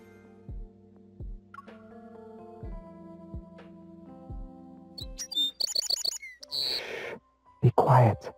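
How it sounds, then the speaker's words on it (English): Bright birdsong chirps outside a window at dawn in the game Love & DeepSpace, entering after a stretch of soft tonal music with a few quiet clicks and rising to short, lively bursts near the end. "Sunlight has barely touched the sky when birdsong wakes me up."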